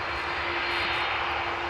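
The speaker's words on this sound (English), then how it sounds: "Finnair A380. Interesting that it is taking off from this runway." A Finnair airliner takes off at Amsterdam Schiphol Airport, its jet engines producing a continuous broad roar with a steady hum, loud and unbroken, with no talk.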